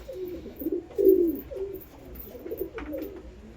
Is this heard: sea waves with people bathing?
no